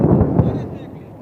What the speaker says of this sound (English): The bombs have been dropped and wait to hear the sound of the explosion.